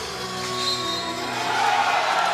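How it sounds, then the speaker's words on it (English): Dominican fans and family members seated right behind the scorer's table roar during a 2019 FIBA World Cup basketball game against Germany, a broad crowd noise that swells louder toward the end. "The Dominican fans and family members were roaring on the decision in their favor from right behind the scorer's table"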